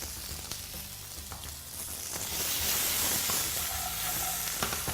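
New potatoes frying and simmering in a pan, a soft, continuous sizzle that swells into a brighter, louder hiss partway through, heard alone without talking.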